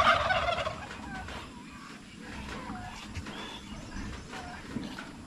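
A farm turkey lets out a loud, rapid gobble at the start, followed by fainter fowl noises and low background rumble.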